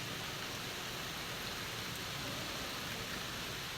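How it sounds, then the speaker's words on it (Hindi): Heavy rain falls in a steady, even hiss, fairly faint and unbroken, with no voices. "अभी भी देखो तेज़ बारिश होने लगी है"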